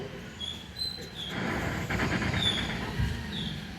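An audience of people at a chief-guest welcome event imitates a train with their voices, a rising collective rumble and hiss swelling together for a few seconds without spoken words.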